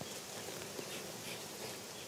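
Honey bees buzzing around an opened hive at a Corsican apiary, a faint, steady, dense hum with no other sounds standing out.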